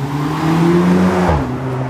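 A Dodge car drives past on a suburban street, its engine hum and tire noise rising close and loud, then fading as it goes by.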